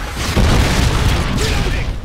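Loud, rumbling blast from a Predator missile strike in Modern Warfare 2 gameplay, a heavy booming roar that fills the short span with sustained low-end noise.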